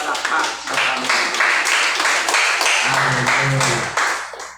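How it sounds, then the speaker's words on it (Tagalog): A worship congregation claps to praise the Lord during a Sunday service, irregular hand claps overlapping into a lively burst of applause, with voices speaking and calling out underneath. "Sige po, palakpak sa Panginoon."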